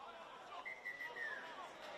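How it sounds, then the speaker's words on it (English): A referee's whistle sounds one long, fairly faint blast for half time at a schoolboys rugby league match at Maitland Sports Ground, heard over steady crowd chatter. "Now the ref blows a whistle for half time."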